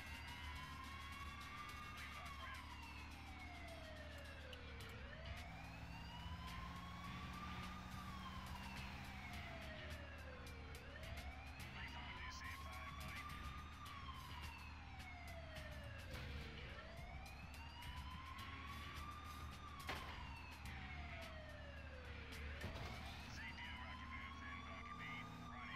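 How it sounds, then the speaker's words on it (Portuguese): A wailing siren in the video game SimCity 4 sweeps up and down in steady repeating cycles over a constant engine-like drone, continuous and fairly loud throughout. "E consegui ligar a sirene"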